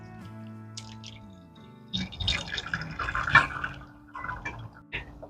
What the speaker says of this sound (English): Press it through. We want all these wonderful juices.